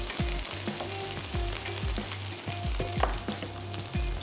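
Onions fry in a pan for a kebab platter, a steady close sizzle with soft repeated stirring scrapes of the spoon running throughout.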